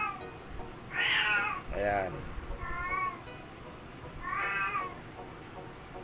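A cat meows several times, drawn-out rising and falling cries spaced a second or so apart, fairly close, with a person speaking briefly in between.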